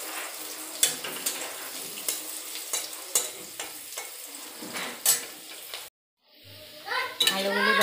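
Potatoes frying in a pan make a soft sizzle under repeated sharp scrapes and stirs of a spatula, then a brief silence before clattering and splashing resume, close and moderately quiet.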